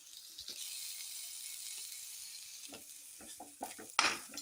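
Chicken cooking in a pan with pepper and turmeric, stirred with a utensil: soft, steady sizzling with scattered scrapes and light clinks against the pan, growing louder toward the end with a sharp metallic knock.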